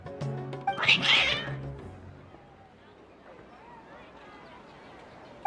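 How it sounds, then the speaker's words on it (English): Cats meow in the video game Genshin Impact: a cluster of loud, agitated cries near the start, then quieter ambience follows. Game voices speak over part of it. "Your cats seem pretty worked up."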